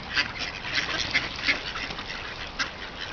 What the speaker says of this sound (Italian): Germani Leali, killer di Borgomanero, assatanati, guardate come mangiano.